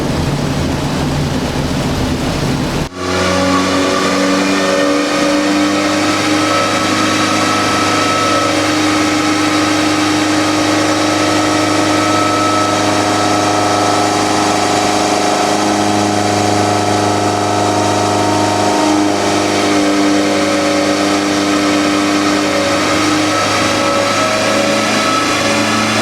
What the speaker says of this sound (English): So we're just going to gather some engine noise data when we know it's not knocking.